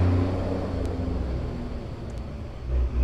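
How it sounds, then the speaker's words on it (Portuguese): A truck passing outside, a low rumbling engine drone that holds steady at moderate level and swells again near the end, heard from indoors with no talking. "Barulho de caminhão"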